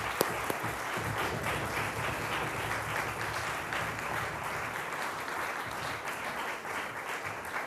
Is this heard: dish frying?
no